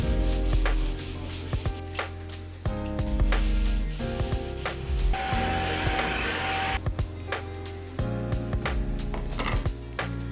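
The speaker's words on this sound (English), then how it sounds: "I need to get this wall nice and flat by adding some putty and sanding it down." Repeated scraping and rubbing strokes of sanding putty on a wall, steady and close, with a brief brighter hissy stretch in the middle and a few clatters.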